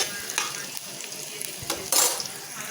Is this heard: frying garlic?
yes